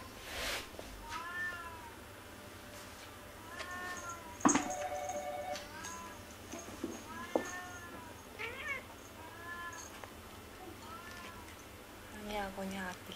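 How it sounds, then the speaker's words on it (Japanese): A cat in a cat café meows repeatedly, a series of drawn-out, wavering cries at a moderate distance, with a sharp clatter partway through and a faint steady hum underneath. "にゃーごにゃーって聞こえる。"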